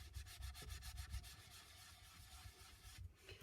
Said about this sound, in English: Keep giving it a good old scrub.